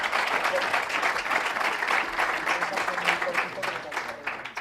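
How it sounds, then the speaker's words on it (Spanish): A debate audience claps steadily for Falcao, a fairly loud, sustained wash of many hands that fades a little toward the end. "Un aplauso para Falcao."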